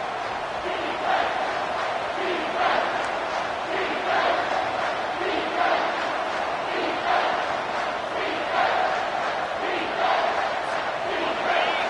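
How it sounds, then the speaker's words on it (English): A college football stadium crowd roars and swells in a sustained, dense wall of cheering and shouting, loud and continuous, with rhythmic pulses of louder surges. "This crowd rising up, sensing that its defense needs some help."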